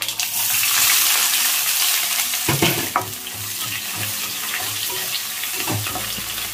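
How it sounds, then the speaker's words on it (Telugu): Whole spices, green chillies and sliced onions sizzling in bubbling cold-pressed oil, a loud dense frying hiss that eases slightly, marked by a few sharp spoon knocks and scrapes. "గానుగా నూనె కాబట్టి మనకి ఇలాగా బబుల్స్ లాగా వస్తుంటుంది."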